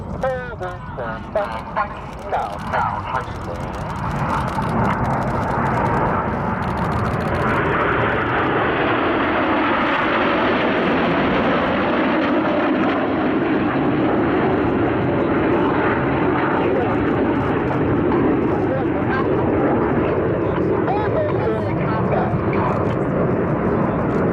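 Red Arrows jet formation roaring past at a Cosford airshow while trailing coloured smoke, a loud continuous broadband jet rumble that swells and holds steady, with a commentator talking over it.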